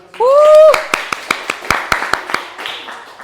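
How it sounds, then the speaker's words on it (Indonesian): A short burst of clapping from a small group, scattered sharp claps following a brief voiced sound at the start. "beri tepuk tangan buat"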